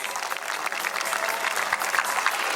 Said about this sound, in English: My beloved students, give them a big hand, please.